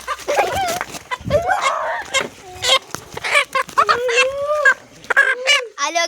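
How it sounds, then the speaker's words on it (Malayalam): Backyard chickens clucking and squawking close by, mixed with goose-like honks and other fowl calls, in rapid irregular bursts; a person talks over parts of it. "ഇതാണ് നമ്മളെ കോഴി."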